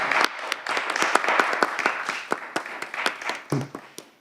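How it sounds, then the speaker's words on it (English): A small audience at a cyber resilience forum panel applauds the speakers and moderators, with distinct, separate claps in a loose, uneven rhythm that thin out toward the end, close and fairly clear. "let's have a round of applause for them"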